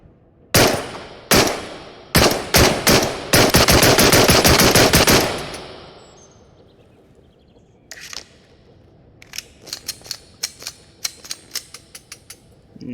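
A Glock 17 / MP443 Grach 9x19 pistol fires in the VR game Into the Radius: several loud, sharp single shots, then a rapid run of shots, followed by softer metallic clicks and rattles of handling and reloading. Nobody speaks.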